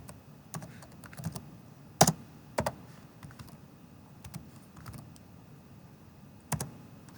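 Keys on a computer keyboard are tapped at a relaxed, uneven pace while the ipconfig /renew command is entered, soft clicks with a few sharper strikes, close and quiet, no talking.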